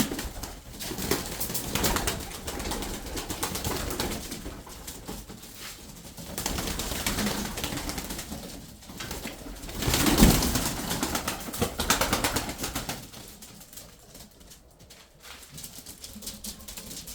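Tumbler pigeons are being driven up to fly while birds coo and wings flutter. The sound is a dense, continuous outdoor wash with rising and falling swells and no clear single calls.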